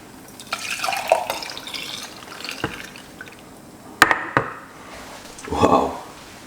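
Carrot and beetroot juice is poured out in a few splashing bursts, with brief clinks of a container between the pours.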